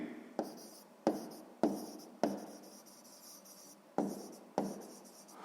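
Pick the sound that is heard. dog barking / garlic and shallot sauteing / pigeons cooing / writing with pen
writing with pen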